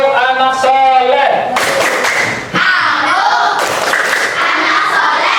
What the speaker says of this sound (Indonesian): Coba tepuk anak soleh